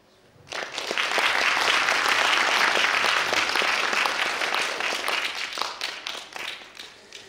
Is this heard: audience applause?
yes